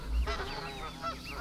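A goose honks several times in a quick, uneven series of short nasal calls over a steady low background rumble.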